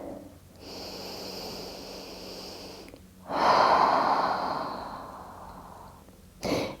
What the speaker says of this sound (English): Nice deep breath here.